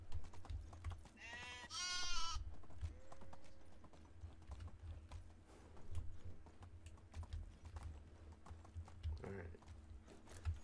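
Sheep bleating in the Medieval Dynasty game, a couple of clear nearby bleats early on and a fainter one later, over steady clip-clopping hooves and background game sounds while someone talks.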